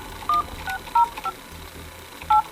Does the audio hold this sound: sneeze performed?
no